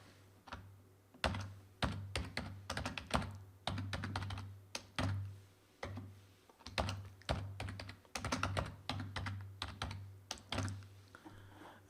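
Keys on a computer keyboard clatter in quick bursts of typing with short pauses between, close and fairly quiet, over a low steady hum, while a password is entered.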